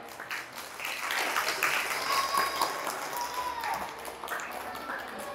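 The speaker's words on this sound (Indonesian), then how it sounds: "Tepuk tangan untuk Nurul Hidayah" A crowd at an Islamic religious lecture applauds Nurul Hidayah, a moderately loud wash of clapping that swells and holds for several seconds, with faint voices underneath.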